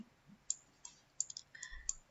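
A computer mouse clicks sharply a handful of times, spaced irregularly, as it is used to handwrite numbers for a Thai grade 5 fraction multiplication lesson. The clicks are close and crisp against a quiet room.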